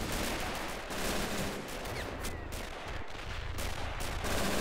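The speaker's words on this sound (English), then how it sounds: "Oh, MGs are cutting us down." Dense machine gun fire rattles constantly on a WWII Pointe du Hoc battlefield in a realism-modded shooter game, loud and continuous, with overlapping shots and rumbling blasts blending into a thick wash of noise.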